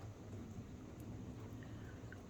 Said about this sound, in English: Now that it started raining, it probably won't stop until next August